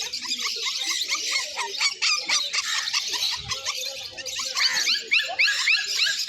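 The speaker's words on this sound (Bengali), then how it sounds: "ওয়াও তিনটেই জার্মান স্পিস না তিন পিসই জার্মান স্পিস" Three small German Spitz dogs yap and whine together in rapid, high-pitched bursts, close by and continuous, at a pet market in Dakshineswar.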